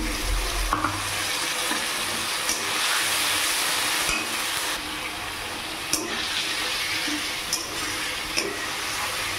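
Water is splashed into a pan of frying cabbage and potato curry, and it sets off a steady, close sizzle with occasional clinks of a spoon stirring against the pan.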